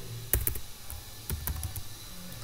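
Code being typed on a computer keyboard for a C programming lesson, a few quick clicky keystrokes in two short bursts, close and fairly quiet, with no talk.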